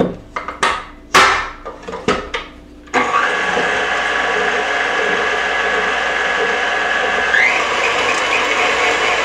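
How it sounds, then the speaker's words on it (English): An electric mixer beats an egg with light brown sugar for cookie dough, a steady loud whirring drone that runs continuously after a few clunks and knocks of the bowl being set up. "I'm going to mix this up on my mixer"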